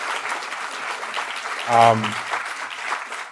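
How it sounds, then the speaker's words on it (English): Gala audience at a poetry month event applauding sponsors, a broad wash of clapping throughout with a brief tonal voice or cheer rising in the middle. "If you give them a round of applause, because there's some representatives here tonight."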